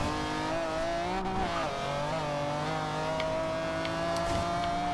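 Engine of a 1997 McLaren F1 GT in Forza Horizon 2 on Xbox One, a steady high-pitched drone that dips briefly as it shifts and then holds a sustained tone, with faint tire squeal.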